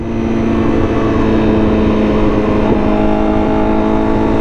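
A motorcycle held at full throttle in first gear, a steady loud high-revving engine drone that stays constant throughout with no talk.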